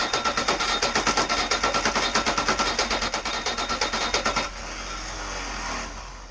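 A marine diesel engine cranks on its starter motor, a loud, even train of rapid chugging pulses close by that stops abruptly, leaving a lower whirring tail without firing.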